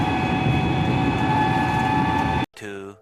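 A train at a station on the way to Tarapith, its steady loud rumble and hum filling the clip before cutting off abruptly near the end, with a brief voice afterward.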